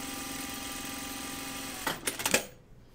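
Close, steady whir of a sewing machine stitching a jacket hem from the right side, running continuously, then a few clunky mechanical knocks as it stops, with no voice.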